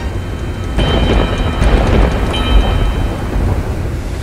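Thunder rumbles over steady heavy rain during a storm in GTA 5, with a sharp crack near the start and further rolling booms, loud and continuous with no talking.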